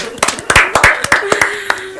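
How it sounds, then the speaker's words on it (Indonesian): A small group applauds at a podcast recording, with a burst of sharp, irregular hand claps. The claps are close and loud, and a voice can be heard faintly underneath. "tepuk tangan dulu"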